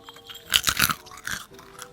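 Close, crisp crunching of fried candied Christmas nuts being bitten and chewed, with a few sharp crunch bursts in quick succession and then a quieter follow-up chew.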